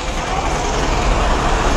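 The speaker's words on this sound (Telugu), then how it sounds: "ఊళ్ళోకి బస్సులు వస్తున్నాయి" Buses rolling into a village, a close, loud broadband engine and road roar that stays steady for the brief moment without a break.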